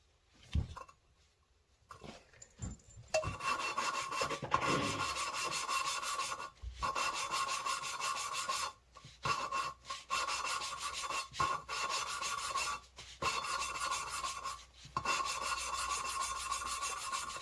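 An engine valve is lapped into its seat in a small-block Mopar 318 cylinder head, giving a repeated gritty rubbing and grinding in bursts with brief pauses between strokes.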